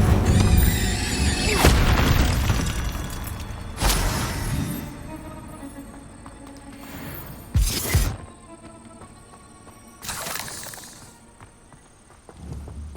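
Incendio fire spell cast repeatedly in Hogwarts Legacy, heard as several loud whooshing, crackling bursts spaced a few seconds apart, with a booming impact at the start of each and quieter rumble between.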